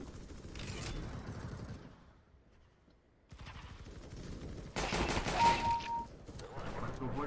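Bursts of gunfire in the Counter-Strike video game, coming in clusters broken by a short quiet gap, with people talking in between.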